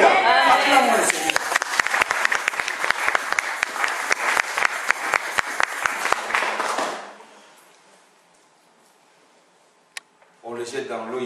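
Church congregation applauding loudly and steadily for several seconds during a French-language sermon, with dense rapid clapping that fades out, followed by near silence and a brief voice at the end.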